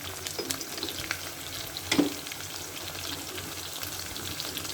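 Vegetables sizzle and fry steadily in a pan for sambar, with a brief louder stir or clatter near the middle and a constant hiss throughout, no voices.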